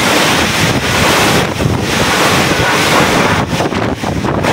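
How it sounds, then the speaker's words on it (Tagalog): Heavy typhoon surf pounds close by on a Northern Samar island shore, with gusting wind buffeting the microphone in a continuous loud roar and brief dips between surges. "Napakalakas ng alon ngayon"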